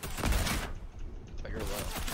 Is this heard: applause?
no